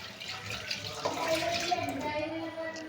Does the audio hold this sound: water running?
yes